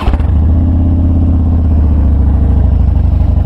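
Loud, steady, low-pitched engine of a 2015 Harley-Davidson Dyna Street Bob custom motorcycle, idling and revving close up with a throbbing, lumpy V-twin pulse and slight mechanical clatter, held in gear at raised RPM.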